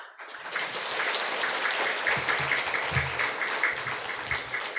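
A church congregation applauds to welcome a visiting pastor to the front, steady dense clapping that fills the room and holds at an even level throughout.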